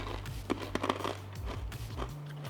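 Crispy green wasabi peas are crunched and chewed up close, a series of irregular crisp bites and crackles over a low background hum.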